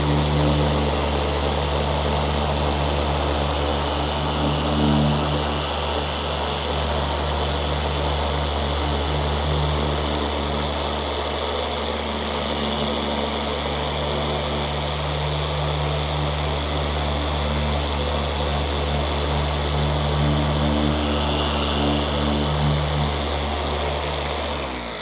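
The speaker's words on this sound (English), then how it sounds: "let the polisher come to rest before the rotation and oscillation comes to a complete stop" A polisher runs steadily on a car's damaged clear coat, a loud continuous motor whine and hum with a stable tone, with no talking.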